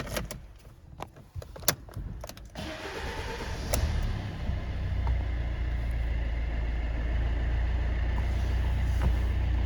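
A few clicks and rattles, then the engine of a 2014 Fiat 500L cranks and catches, settling into a steady, low idle rumble that continues to the end.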